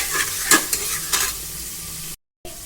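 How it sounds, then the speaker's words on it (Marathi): Coriander paste, ginger garlic paste and mint leaves roast in a pan, giving a steady close sizzle with a few stirring scrapes, briefly cutting out before resuming. "1 चमचा आलं लसूण पेस्ट, थोडीशी पुदिन्याची पाने घालून छान भाजून घेणार आहे।"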